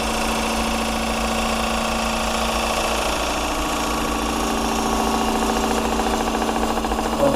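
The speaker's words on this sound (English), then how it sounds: "I'm getting a little chatter here." A woodturning gouge chatters against a spinning, slightly off-center workpiece on a lathe, a steady loud buzzing rattle over the motor's hum that roughens and grows a little louder toward the end.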